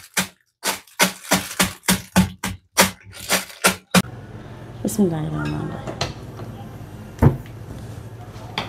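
About a dozen sharp, rhythmic thuds of shallots being pounded in a bag, evenly spaced, then a pause before a voice talks over a low background hum.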